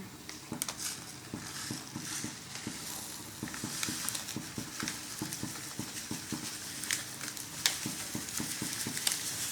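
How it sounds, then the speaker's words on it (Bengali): Rannadhuni kheer mix poured into milk at a rolling boil in a cooking pot, giving a steady bubbling, sizzling patter with quick rhythmic ticks and scrapes throughout, close and moderately quiet. "দুধে বলক চলে আসছে এই যে আমি প্যাকেটের মুখটা কেটে নিয়েছি এখন আমি ক্ষীর মিক্সটা দিয়ে দেবো"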